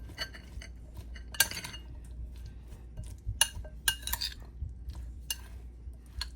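A spoon mixes chickpea chaat seasoned with chaat masala in a bowl, giving soft scraping with scattered sharp clinks against the dish, close and quiet, no voices.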